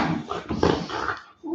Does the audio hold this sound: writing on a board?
no